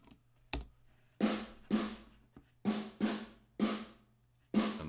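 A drum kit picked up by a room mic at Ranch Production House: sharp, roomy hits in an uneven rhythm, each ringing out briefly, with no other sound.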